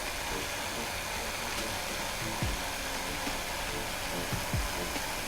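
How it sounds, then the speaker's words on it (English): In Gunsmith Simulator, new wooden gun parts are cut with a steady, high-pitched power-tool whine that holds evenly throughout, loud and close with no voices. "So we're cutting out the new parts out of the new wood"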